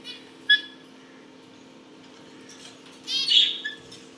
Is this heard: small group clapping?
no